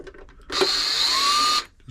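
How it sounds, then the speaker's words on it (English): An electric screwdriver drives screws into a Brother XL5012 sewing machine during servicing, giving one steady, close, high-pitched whir lasting about a second before it stops. "I'm actually going to do these with my electric screwdriver."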